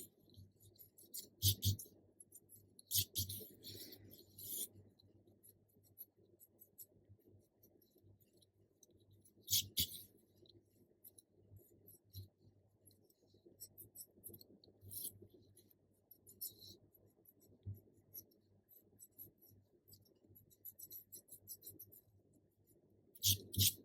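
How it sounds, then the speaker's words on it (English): A pencil eraser rubs across paper while cleaning up lines on a zen lotus drawing, with soft intermittent scrubbing bursts and faint ticks, quiet and close with no talking. "I am now going to use my pencil eraser to clean up my lines."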